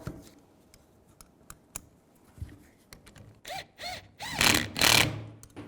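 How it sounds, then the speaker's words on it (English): A wrench snugs tie rod nuts on a 1964-70 Pontiac GTO: a few sparse metallic clicks, then a cluster of louder ratcheting bursts near the end in a quiet garage. "take a 13mm wrench or a 1/2" wrench, 1/2" socket or 13,"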